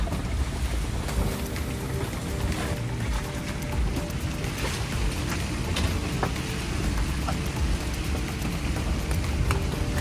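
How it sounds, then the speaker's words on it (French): Loud, constant roar of a tropical squall with wind and heavy rain in Martinique, dense and unbroken, with no voices. "il y a un grain qui tombe en ce moment. Il pleut fort, puis il vente fort."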